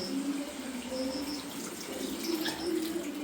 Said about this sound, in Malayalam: പുളി വെള്ളം ഒഴിച്ചു.